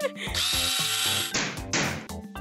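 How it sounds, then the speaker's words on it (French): An electric power drill whirs in sustained bursts, loud and close, stopping and restarting with brief pauses and a ratcheting tone, over background music. "Une perceuse? D'accord."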